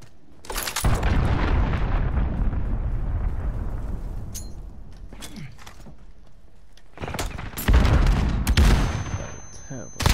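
An incoming enemy cruise missile strike in Call of Duty: Modern Warfare slams down with a huge close blast, a long rumbling roar that fades, then scattered gunfire and a second heavy impact burst.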